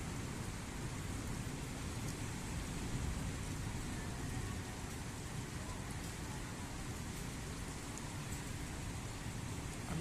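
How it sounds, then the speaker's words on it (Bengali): Heavy, continuous rain pours down during a storm in Qatar, a dense, even roar with no breaks and no talking for ten seconds. "এত অজস্র বৃষ্টি।"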